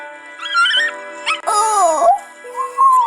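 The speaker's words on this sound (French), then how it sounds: "aujourd'hui on voit un petit chien" Small dog alone in the street, whimpering and yipping in high, wavering cries with short pauses between them, close and fairly loud with no talking over it.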